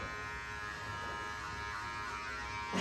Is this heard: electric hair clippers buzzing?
yes